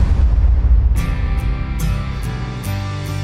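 A string of sharp booming bangs from fireworks exploding, several cracks spaced irregularly over a low rumbling background.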